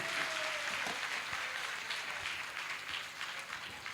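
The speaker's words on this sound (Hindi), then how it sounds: "तालियां बजाओ अपने लिए" A crowd at a religious discourse gathering claps together in a faint, distant, even patter of applause that continues without a break.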